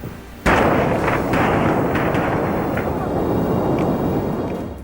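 About 1,000 barrels of rocket fuel detonate at once near Las Vegas, producing one sudden massive blast followed by a sustained, loud roaring rumble with scattered smaller pops that slowly dies away.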